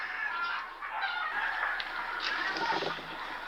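A rooster or chicken gives rough, throaty clucking and squawking calls, fairly close and continuous, mixed with other fowl noise and background sound.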